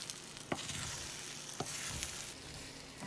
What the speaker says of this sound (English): So you see the eggs kind of like cooking up.